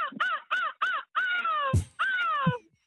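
A man imitates a seagull's cry, repeating short yelping calls in quick succession, then two longer drawn-out wails with brief breathy accents between them; loud, close and alone, from a world seagull-cry championship.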